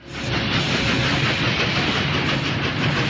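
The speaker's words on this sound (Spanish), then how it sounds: "Este es uno de los trenes nuevos que hicieron recientemente." New Chicago subway train passing through a tunnel, a loud steady roar with clattering wheels and hiss sustained throughout, close by and without talk.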